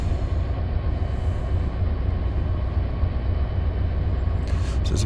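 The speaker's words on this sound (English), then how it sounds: "Train coming here on the left." A passing train rumbles steadily in a train simulator game on a southbound run toward Miami in CSX territory, a broad, loud, continuous roar without a break, with a brief brighter rattle near the end.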